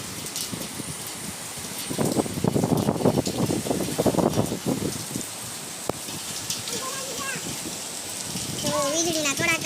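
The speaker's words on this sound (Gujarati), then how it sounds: "પવન ને વરસાદ ને એકદમ જોરદાર ચાલુ થઈ ગયો છે." Heavy rain driven by strong wind in Pune pours steadily and loudly on surfaces outside, while voices, including children's, talk nearby.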